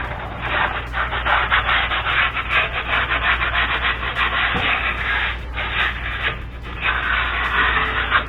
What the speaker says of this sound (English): Just go around and kind of clean any rust that may have built up on there.